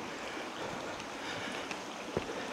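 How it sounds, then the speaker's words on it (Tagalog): Shallow mountain stream in Sagada, Mountain Province, flowing as a steady broadband water rush, with a few soft splashes and a brief low thump near the end. "so may batis kang dadaanan dito"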